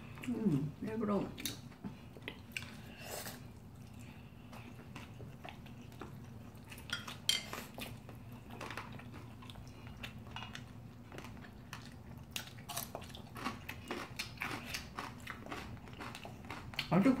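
Cutlery clinks and soft chewing while eating changran-jeot (pollock tripe) bibimbap, with scattered clicks of utensils against a bowl throughout, under a low background hum and occasional quiet talk.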